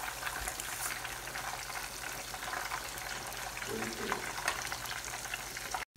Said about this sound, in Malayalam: ഇപ്പം നല്ല തിളച്ചു കിടക്കുന്ന എണ്ണ ആയതുകൊണ്ട് പെട്ടെന്ന് ചിക്കനങ്ങ് ആവും.